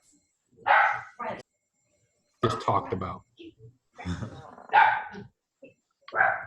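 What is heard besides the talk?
dogs barking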